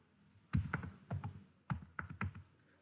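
Android code is typed on a computer keyboard as quiet, close key taps in two short clusters with a brief pause between them, and no voices.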